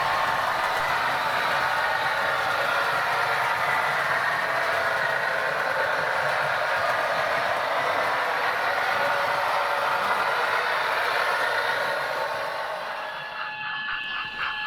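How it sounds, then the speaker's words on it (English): Steady mechanical running noise of a Hornby EWS Class 60 model train rolling continuously along track, fairly close, with a brief change near the end. "So let's have a bit more running of the trains up there."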